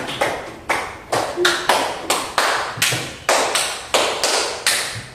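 Students in a classroom clap their hands in a steady counted rhythm, a dozen crisp, evenly spaced claps grouped in repeated sets, close and loud with no talking.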